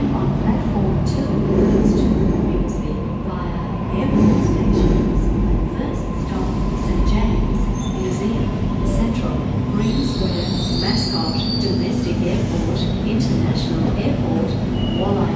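Sydney suburban train running toward the International Airport with a trainee driver at the controls, a steady loud rumble of wheels and carriage noise throughout with a faint squeal later, a voice heard over it.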